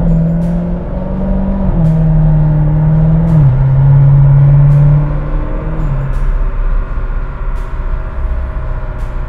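A C7 Corvette engine climbs steadily in pitch as it accelerates at moderate throttle toward 60 to 70 mph, steps shifting through gears, loud and close with no voices.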